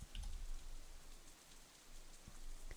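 Steady rain falls as a quick shower in the visual novel game Katawa Shoujo, a continuous close hiss of drops on surfaces with a slight swell toward the end and no voices.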